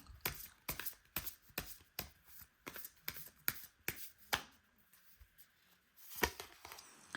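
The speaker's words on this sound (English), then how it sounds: "I will shuffle the deck one more time." A Lenormand card deck is shuffled in a quiet room, a series of crisp riffling bursts repeating in a loose rhythm, with a brief pause near the end.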